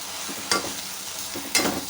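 Moringa leaves being stirred and sautéed in a pan with onion and tomato, two sharp scraping stir strokes over a soft steady background, close and moderately loud.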